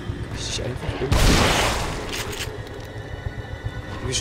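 A loud burst of gunfire erupts in The Evil Within, then fades into rumbling game noise while a voice talks in the background.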